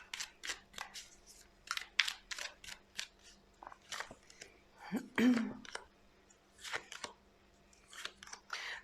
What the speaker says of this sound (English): I'll give this a good shuffle after the first option.